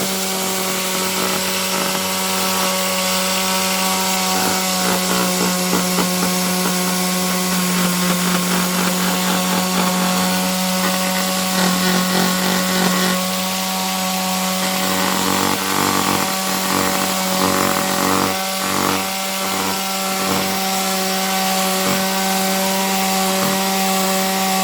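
Power sanding of weathered, varnished wooden windowsills on a narrowboat gives a continuous loud motor hum with steady tonal whine and a rough, rhythmic scraping texture as the sander moves across the wood, with no talking.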